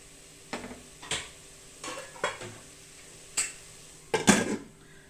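Mutton and tomatoes sautéing in a pan are heard as a low sizzle under several sharp, separate clinks and scrapes of a utensil stirring against the metal, spaced unevenly and growing busier near the end.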